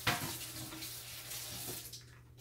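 Tap water runs steadily into a cooking pot holding seasoned chicken for stew, a close, continuous splashing stream that tapers off near the end.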